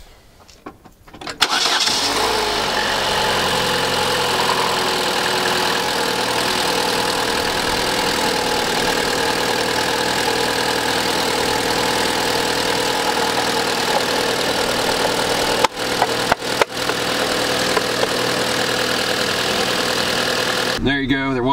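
A Chevy Cruze engine cranks and catches after a repair, then settles into a steady, loud idle that runs on with a brief clatter near the end.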